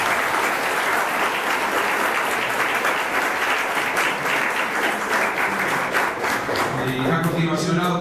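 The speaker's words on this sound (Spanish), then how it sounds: "A todos ustedes les pido que con un gran aplauso le den una bienvenida al doctor Martín Bermúdez" Sustained applause from a conference audience welcoming Dr. Martín Bermúdez, dense steady clapping that thins near the end as a voice begins speaking.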